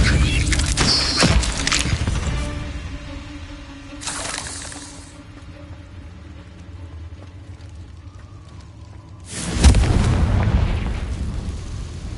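Heavy booming magical blasts from the Confringo spell in Hogwarts Legacy, a loud crash at the start, another mid-way and a big burst near the end, over a steady rumbling background.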